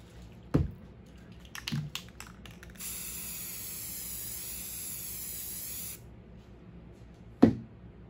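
A well-shaken spray bottle fogs a fine mist onto a granite-look epoxy kitchen island countertop in one steady hiss lasting about three seconds, framed by a few sharp knocks and clatters before and after.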